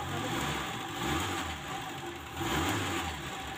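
A car engine idling at about 700 RPM, low and rough, with slight rhythmic surges: a faint, steady mechanical hum with no voices.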